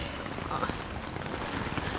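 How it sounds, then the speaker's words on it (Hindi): Heavy rain at a lakeside campsite beside tents, a steady dense hiss of drops pattering on surfaces, close and continuous without pause, with faint low rumbling underneath. "और यहाँ पे बहुत ही ज़्यादा बारिश हो रही है"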